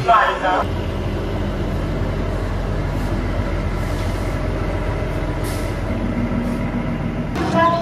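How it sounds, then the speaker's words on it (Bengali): Shivalik Deluxe Express beginning to move out of Kalka, a continuous low rumble and hum of the carriage, steady and near, with brief voices at the start and end. "অলরেডি ট্রেনটা খুলতে শুরু করে দিয়েছে"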